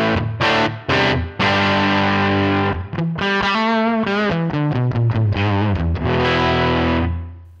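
Electric guitar through a Helix US Deluxe Vibe amp model, miked with a 160 ribbon and light ambience, plays a crunchy, distorted riff of chopped chords and single-note runs, loud and close, then rings out and fades.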